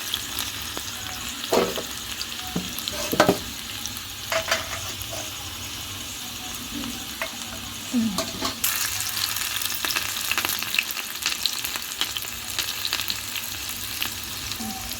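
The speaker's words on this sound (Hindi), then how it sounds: "इसमें हम तड़का लगाएंगे लहसुन का, जीरा का और हरी मिर्च का" Garlic, cumin and green chili sizzle in hot oil while dal is tempered in a home village kitchen, a steady soft frying hiss with occasional stirring clatters and scrapes, no voices.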